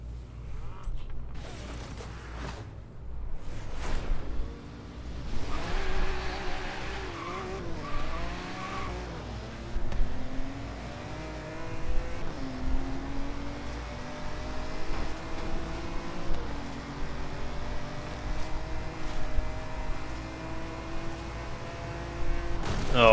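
A racing car in Forza Horizon 3 roars through gear changes, its engine pitch climbing and dropping again and again, with tire squeal and skidding mixed in. The sound stays loud and continuous throughout.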